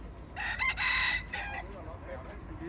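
Several F1 junglefowl roosters crowing in a loud overlapping chorus, two strong crows near the start followed by fainter crows trailing off, over steady farmyard background noise.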